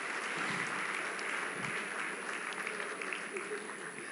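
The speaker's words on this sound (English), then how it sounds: "Let's give him another round of applause." Steady applause from a crowd at a gala dinner, dense clapping that stays loud and even throughout with no pauses.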